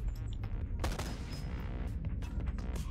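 Gunfire in the VR video game Bonelab: a dense, rapid stream of shots and booming bursts that runs the whole time, loud and close, with no voices over it.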